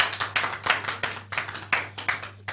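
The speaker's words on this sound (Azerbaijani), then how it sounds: "bir daha alqışlayırıq" An audience claps together at a diploma presentation event, a short burst of brisk, fairly close applause with no voices.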